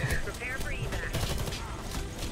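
Bursts of rapid gunfire fill a co-op shooter video game, dense and continuous, mixed with game effects and players' voices over it.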